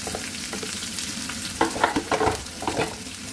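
Chopped onion drops into hot oil with cumin and starts frying, a close, steady sizzle with a few louder crackling bursts and stirring scrapes partway through, and no voices.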